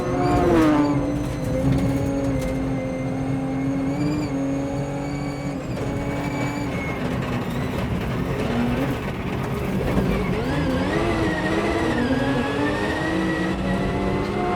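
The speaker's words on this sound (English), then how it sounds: "And now row it through the gears. Fifth, sixth, feel that torque." A car engine roars loudly and continuously, its pitch sweeping up and dropping as it shifts up through fifth and sixth gears, close and without talk.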